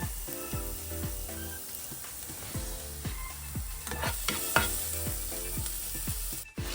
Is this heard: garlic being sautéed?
yes